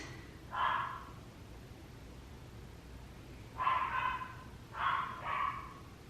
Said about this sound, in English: So barky, eh? For such a little dog, she's pretty loud.